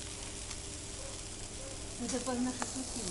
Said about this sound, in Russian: Уже подгорают шашлыки.